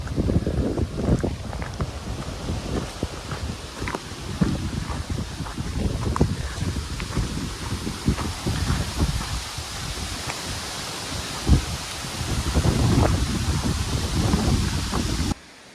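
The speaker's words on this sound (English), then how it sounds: "Wind's picking up a bit." Steady wind blows across an open fell on a Lake District horseshoe walk, a constant rushing buffet with gusty swells against the microphone, loudest near the end.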